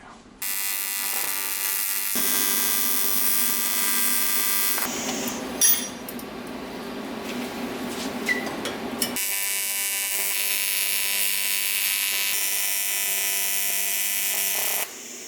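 Tack welding on intercooler piping during a Cummins swap into a Ford F-350 dually, a steady loud buzzing crackle that runs in long bursts with brief pauses between, close and without talk.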